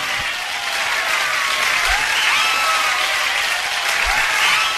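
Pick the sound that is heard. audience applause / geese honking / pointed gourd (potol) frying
audience applause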